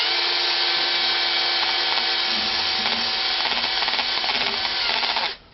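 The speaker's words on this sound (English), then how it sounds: "It sounds very powerful, this drill." A power drill fitted with a small wire brush wheel scrubs dried grass off a ride-on mower blade, a loud, steady high-pitched whine and scratchy grinding that runs unbroken for about five seconds before cutting off abruptly.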